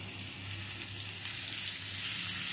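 Cut pumpkin, jackfruit seeds and potato sizzle in hot oil in a pan, a dense, steady, close frying hiss with no voices.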